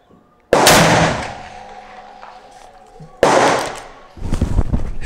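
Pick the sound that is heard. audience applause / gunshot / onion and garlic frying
gunshot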